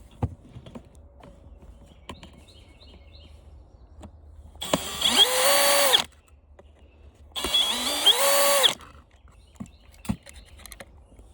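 A power drill whirs in two bursts of about a second and a half each, winding up and spinning down as it backs screws out of a plastic stand-up floor fan, with small clicks and handling knocks between.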